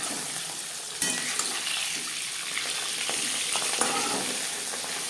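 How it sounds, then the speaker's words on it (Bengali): Pabda fish frying in hot refined oil in a pan, a loud continuous crackling sizzle with a sharp spatter burst near the start, with no voices. "চার পাঁচ চামচ রিফাইন্ড অয়েল গরম করে নেওয়ার পর দিয়ে দেবো মাছ পাবদা মাছ ফোটে একটু সাবধানে ভাজতে হবে"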